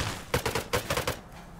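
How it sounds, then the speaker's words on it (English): Gunshots in the survival video game Rust: a quick burst of five or six sharp shots fired within about a second, fairly close, followed by a short fading tail. "I hear shots."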